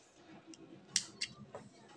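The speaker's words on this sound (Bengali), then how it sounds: "বাটন প্লেট তৈরি করার পরে যে বাড়তি সুতাটি আছে আমি কেটে নিচ্ছি" Scissors snip excess crochet thread in a few quick, soft cuts close by, each a brief sharp click set against a quiet room.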